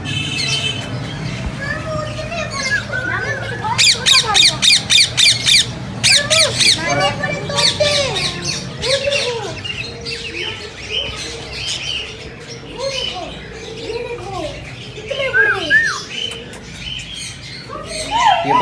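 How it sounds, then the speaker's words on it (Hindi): Parrots squawk and chirp repeatedly in loud bursts, mixed with pigeon cooing and other bird calls, while people talk nearby in a park in Sialkot. "ये पैरेट है तोते।"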